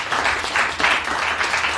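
A church congregation applauds together in a steady, dense wash of clapping that swells in waves, loud and close, with no voices standing out above it.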